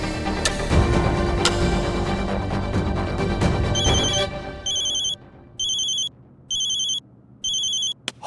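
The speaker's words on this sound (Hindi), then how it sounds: "अभी आएगा फोन।" A telephone ringing with an incoming call: after a burst of loud mixed noise, four evenly spaced electronic ring bursts repeat clearly with short silent gaps between them.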